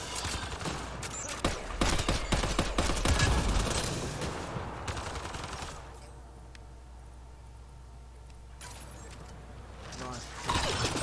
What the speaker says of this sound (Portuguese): só um rifle tem disparo automático, né?